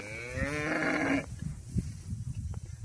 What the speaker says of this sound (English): Here's a few of the calves.